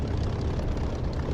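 Propeller aircraft engine throttling up for takeoff in the DCS flight simulator game, a steady low droning rumble close and even, with no talk.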